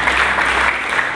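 A church congregation gives loud, sustained applause during a sermon: a thick, continuous wash of clapping close up and unbroken from start to finish.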